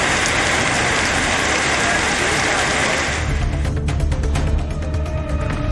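Steady, loud rain falling in Tiruvallur district, a dense continuous hiss of drops on surfaces, with a low rumble and scattered drip patter taking over in the later seconds.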